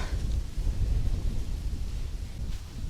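Strong wind gusts buffet the microphone beside a small river on a November pike fishing outing, producing a steady low rumble and roar that continues for the whole stretch with no voices.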